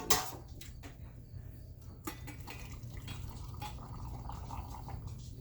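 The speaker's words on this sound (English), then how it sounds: "we're just going to take and fill up our jars with our brine" Brine poured from a container into jars for crispy dill pickles, a trickling, splashing flow with a few glassy clinks, close and moderately quiet over steady kitchen hum.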